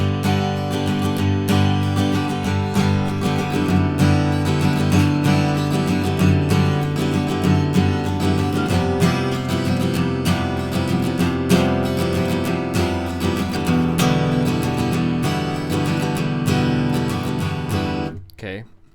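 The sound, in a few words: guitar playing Wind Waker Great Sea chord sequence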